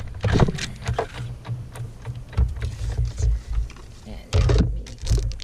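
A Big Shot die-cutting machine is cranked by hand through a tight squeeze, giving rough grinding and creaking bursts with low rumbling that ease, then surge again near the end.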